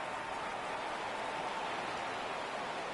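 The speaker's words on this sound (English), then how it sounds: "The rain set to continue as we are underway in the second half" Rain falling in an American football video game, a steady soft hiss of even, continuous noise with no distinct drops, quiet and alone.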